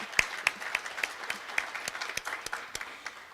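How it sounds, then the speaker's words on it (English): An audience at a physical therapy hooding and pinning ceremony applauds, a thin scattering of individual claps at fairly close range, steady for a few seconds. "deserves a round of applause"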